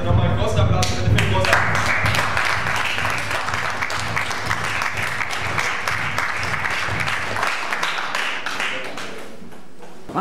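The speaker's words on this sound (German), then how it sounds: "dann also nochmal einen großen Applaus für den Film" Audience applause after a film screening at a festival event, a dense, steady wash of many hands clapping that fills the room for about eight seconds before thinning out.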